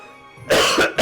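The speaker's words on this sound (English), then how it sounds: "I've actually still got a cough right now" A person gives two harsh coughs close to the microphone, the first longer, the second a brief burst right after, with a quiet lead-in before them.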